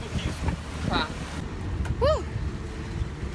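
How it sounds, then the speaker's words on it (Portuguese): Gusty wind rushes steadily over a sailboat off Greece, a broad airy roar that swells and fades while people talk over it and a few brief chirps sound. "são várias rajadas e às vezes o vento não vem só de um lugar"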